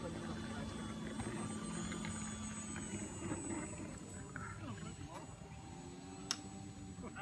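A radio-controlled Hangar 9 P-47D Razorback model plane flies with a steady, droning engine heard from a distance outdoors, while people talk over it.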